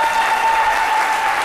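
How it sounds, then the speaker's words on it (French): Studio audience applauding loudly and steadily on a French-language midday TV show, a dense, even wash of clapping hands that fills the whole short stretch without a break. "L'ONG Eto Menya qu'on applaudit très très fort."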